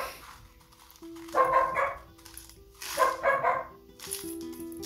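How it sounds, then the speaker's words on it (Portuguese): A pet dog barks twice indoors, each a short burst of a few sharp yaps, with a pause between. Both are moderately loud against a quiet room during a terrarium build. "Essa é a hora que meu cachorro quer participar do vídeo."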